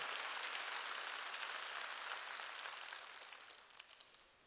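A church congregation bursts into steady applause during a Korean worship service, a dense roomful of clapping that gradually thins and fades toward the end.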